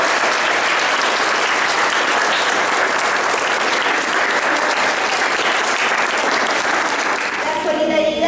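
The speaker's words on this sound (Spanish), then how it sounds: "Entonces, un aplauso para los chicos." Applause for the children at Escuela Esteban Echeverría school, a crowd clapping steadily and loudly for about eight seconds before it begins to thin out near the end.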